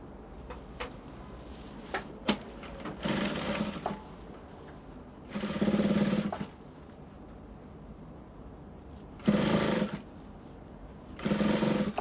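A sewing machine stitches a pleated bishop collar at a 1/4 inch seam allowance in several short bursts, each about a second long, with quiet handling clicks and fabric rustle in the gaps.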